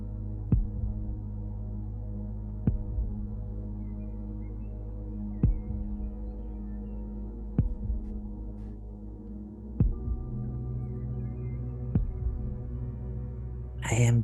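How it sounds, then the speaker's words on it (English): A slow, steady thumping heartbeat effect pulses about every two seconds over a low continuous hum, fairly quiet, with a sharp noise at the very end. "as the surroundings get a little bit more tense and quiet, you can hear your own heartbeat."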